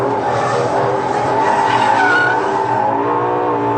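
A Ferrari LaFerrari in third gear roars past at speed, a loud, dense engine howl with a sustained tyre squeal over it, continuous for a few seconds.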